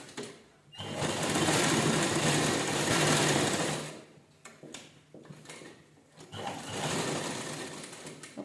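A sewing machine stitches a cloth vegetable bag in two long whirring runs of rapid needle clatter, separated by a short pause with small clicks and fabric handling.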